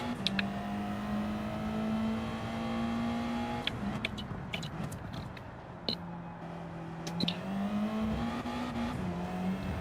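Mazda 3 engine in Gran Turismo 7, a steady droning hum that rises and falls through gear changes, with short sharp transients and brief dips as the car accelerates and shifts.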